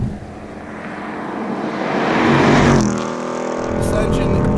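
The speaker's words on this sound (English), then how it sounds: "This engine is a total powerhouse." A 710 hp 2019 Roush Stage 3 Mustang engine roars loudly, its revs climbing to a peak before easing off and then holding a steady throb, with a voice speaking in the background.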